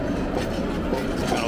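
An amusement park train ride full of passengers rolls past at Knott's Berry Farm, a steady rumbling rail clatter that stays fairly loud and even throughout, with faint crowd voices mixed in.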